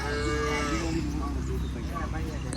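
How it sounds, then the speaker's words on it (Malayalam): A pregnant, third-lactation HF Jersey cross dairy cow lows with a long, deep moo that fades out, near and loud, with faint farmyard background sounds. "നല്ല അടിപൊളി പശുവാണല്ലോ"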